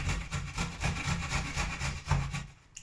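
Fresh ginger is rasped back and forth across a kitchen grater in quick, rhythmic strokes, a close, gritty scraping that repeats steadily and then stops.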